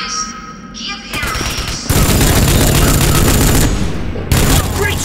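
Dense automatic gunfire from the Rogue Trooper Redux video game rattles loudly and close in continuous volleys, punctuated by heavier booming shots.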